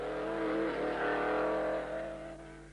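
A pre-war Silver Arrows Grand Prix race car laps a circuit, its engine droning loudly and steadily at high revs, holding close for nearly three seconds before fading slightly.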